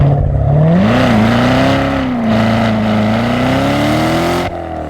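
A sports car engine, either a 2017 Chevy Corvette Grand Sport or a Dodge Challenger Hellcat, revs loud and close, its note rising and dipping smoothly for several seconds before cutting off abruptly.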